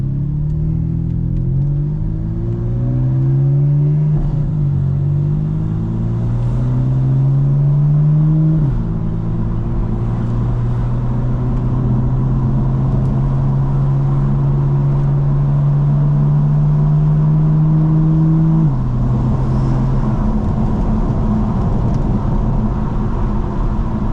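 A BMW M4 F82 with its exhaust valves open, loud and close from the cabin, climbs through rising revs across repeated gear changes, then holds a steady drone before dropping off near the end.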